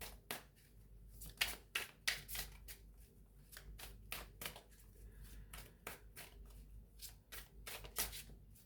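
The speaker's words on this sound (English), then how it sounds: "Right, let's give them one more shuffle." Cards being shuffled up close, a quick series of crisp riffling bursts and flutters repeating at an uneven pace with short pauses between.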